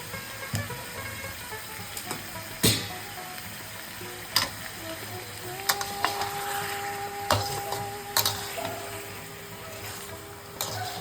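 Mutton with spices is stirred and fried in a pan. A faint sizzle is broken by sharp scraping ticks and clicks from the spoon at irregular intervals.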